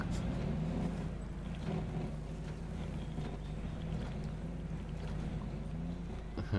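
A steady truck engine drone in the video game SnowRunner hums low and continuous beneath a faint wash of noise, working evenly without pauses throughout.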